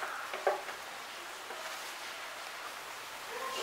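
Paneer kofta gravy bubbles in a pan, a soft steady simmering hiss with a few faint pops and a light clink early on.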